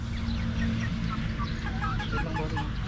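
Backyard chickens cluck and chirp in a steady, close flock chorus, with overlapping short calls over a constant low outdoor rumble and no clear talk.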